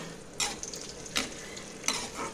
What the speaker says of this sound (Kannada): ಒಣ ದ್ರಾಕ್ಷಿನ ಚೆನ್ನಾಗಿ ಫ್ರೈ ಮಾಡಿ